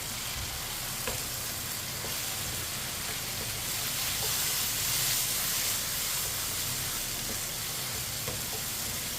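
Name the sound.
stirring chopped tomatoes and green chillies in sizzling pan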